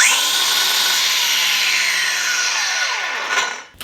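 Bosch GWS 18V-180 PC cordless angle grinder spinning with no load, a loud high whine that holds steady and then winds down as the motor coasts to a stop near the end.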